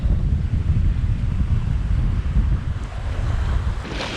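Wind roars and waves wash steadily around a Hallberg Rassy 54 sailboat sailing upwind under reefed sail in about 15 knots of wind in the Bahamas, with dense low rumbling noise throughout.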